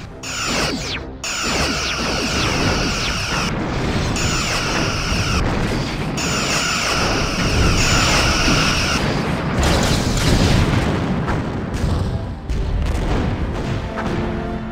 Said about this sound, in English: The ship has been destroyed, ending simulation.